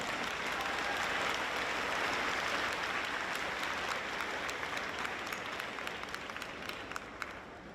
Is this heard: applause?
yes